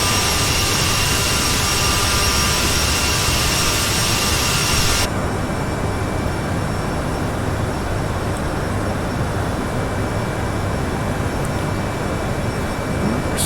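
Endeavor Air jet airliner engines holding climb thrust, a loud, continuous broadband roar heard from inside the cabin, steady throughout with a slight drop in high hiss partway through, no voices.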